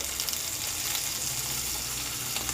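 Onion and tomato sautéing in a pan for a spicy chutney give a steady, soft sizzle with faint watery crackle, continuous and fairly quiet throughout with no voices.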